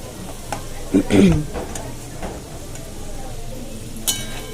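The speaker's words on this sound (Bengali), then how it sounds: "এখানে ফোড়ন দিলাম গোটা গরম মশলা, গোটা জিরে, তেজপাতা।" Whole garam masala, cumin seeds and bay leaf hit hot oil in a home kitchen, giving a low sizzle punctuated by a few sharp clinks and stirring knocks from a utensil against the pan.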